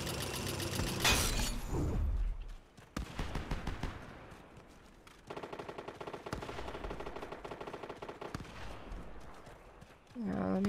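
Gunfire in the video game Fortnite crackles in rapid bursts of automatic shots. A sharp, loud blast sounds near the start, then a long steady stretch of repeated firing follows at moderate distance.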